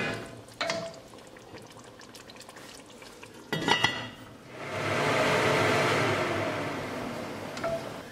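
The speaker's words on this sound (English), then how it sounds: "we're going to open it and we're going to stir it so that it won't get burned at bottom" A spoon scrapes and stirs beef rice in a cooking pot, a few clinks against the metal followed by a longer sizzling, swishing stretch of mixing, close and fairly quiet.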